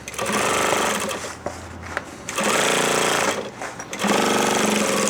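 Sewing machine top-stitching a seam on a handmade backpack. The loud, fast mechanical chatter comes in bursts, stops briefly twice and then starts again, close by.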